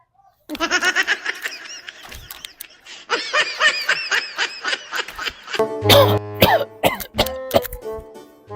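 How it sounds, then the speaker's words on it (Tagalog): A series of harsh, dog-like barking coughs comes in bursts, followed by laughter and giggling close to the microphone. "Ang imong ubo mura yung iro."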